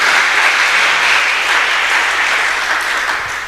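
A church congregation claps and cheers during a Pentecostal Sunday worship service, a dense, loud wash of applause filling the room and tapering slightly at the end.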